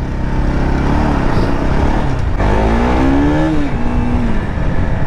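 A powerful motorcycle with a slightly bent handlebar revs loud and close, its engine pitch climbing, dropping and climbing again as it pulls away under a steady rumble.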